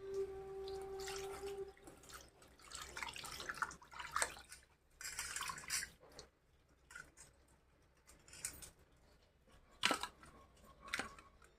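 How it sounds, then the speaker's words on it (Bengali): A rohu fish is rinsed by hand under running tap water, producing faint, irregular splashing and dripping with soft handling sounds in a quiet kitchen. "এখন আমি মাছটা ভালো করে ধুয়ে নেব"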